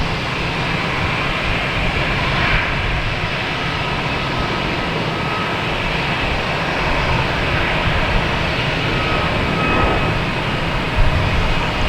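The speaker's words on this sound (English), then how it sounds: "We got Alaskan Airlines here heading to Portland." Alaska Airlines airliner at Boston Logan Airport bound for Portland, a steady broad engine roar heard from the ground at moderate distance, holding level throughout with no voices.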